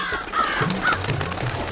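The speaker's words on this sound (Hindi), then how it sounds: "14 कौवे चंदू की चाची के छत के मुंडेर पर।" Crows on a rooftop parapet give loud, nasal caws, two or three distinct calls close by, with no talk.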